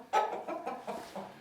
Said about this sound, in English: Happy chickens, happy girls.